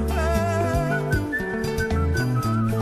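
Whistled melody within a Congolese rumba song, a bright wavering tone riding over steady bass, guitar and percussion throughout, with no voices.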